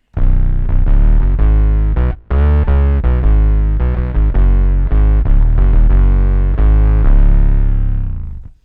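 A bass guitar run through octave pedals and fuzz in parallel imitates a multi-oscillator Moog synth, giving thick, buzzing, distorted low notes that sustain loudly, with one brief gap before fading out at the end.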